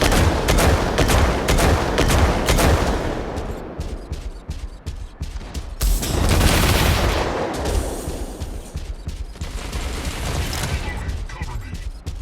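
Dense, sustained gunfire and explosive bursts from a Mech Arena 2v2 battle, loud and continuous across the clip with a brief lull midway, mixed with in-game voice callouts.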